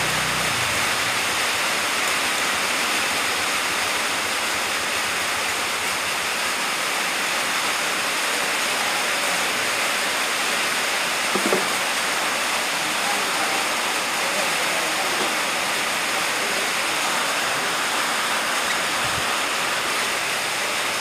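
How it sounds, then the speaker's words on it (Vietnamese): Sirius motorbike parts being washed with gasoline, a steady broadband splashing, rushing wash that runs continuously like running liquid, with a brief clink near the middle. "Để mình lấy xăng mình rửa qua đi để cho anh em nhìn nó rõ"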